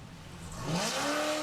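Formula offroad buggy engine with a new exhaust system, climbing a steep hill at an Icelandic Stangarhylur Cup event: a loud, rising engine note that builds and holds steady as the car pulls up the slope, with no voices.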